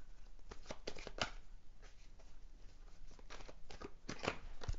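Tarot cards shuffled by hand, a string of quick papery riffles and slaps in uneven bursts, close and fairly quiet, with no talking.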